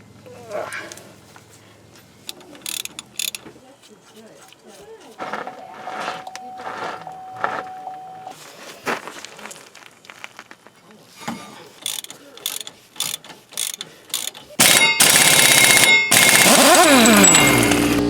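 Mechanic working on the front wheel of a 2003 Chevy 1500 4x4, with ratchet clicks and clanking metal tool sounds in bursts, building to a loud, rapid ratcheting run at the end.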